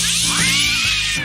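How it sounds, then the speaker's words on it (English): A loud, close cat meow, drawn out and wavering, followed by another overlapping cry, as if more than one cat is calling. "Did the Cash Kitty have babies? Because it sounds like more than one"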